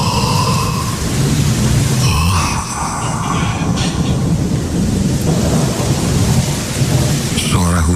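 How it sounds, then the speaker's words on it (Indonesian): Heavy rain pours steadily and densely, with deep rolling thunder rumbling underneath and a few sharper cracks, all loud and continuous without a break. "Suara hujan yang kudengar makin lama semakin deras."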